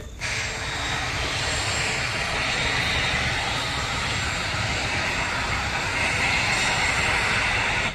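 A parked Chennai-bound airliner idles on the apron at Mysuru airport, its engine giving a steady, broadband roar that holds level throughout, heard from a distance without talk.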